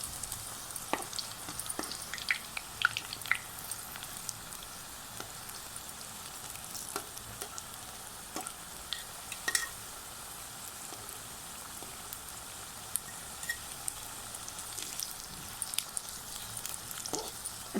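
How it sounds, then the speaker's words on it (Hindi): Okra (bhindi) frying in a pan gives a quiet, crackly sizzle with many small pops and spits scattered irregularly throughout. Occasional light clicks stand out. "अच्छे से इसको ना हम फ्राई कर लेंगे"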